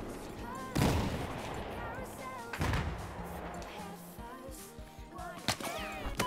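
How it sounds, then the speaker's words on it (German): Grenade blasts and gunfire in the video game Battlefield 4 during a multiplayer conquest match on Golmud Railway, with two heavy booming explosions, scattered shots and sharp impacts over steady background battle noise. "Machen wir mal ein paar Granaten."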